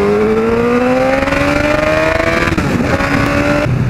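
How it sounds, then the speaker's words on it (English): Motorcycle on its first road test ride, recorded from a helmet mic, with a loud steady engine note rising in pitch as it accelerates and a brief gear change before climbing again. "I recorded the first test ride on the bike, you know, the first time it went on the road."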